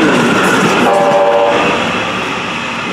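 A bright red train rumbles loudly past at close range, crossing Michigan Street, its horn sounding briefly in the middle over the steady roar of the cars.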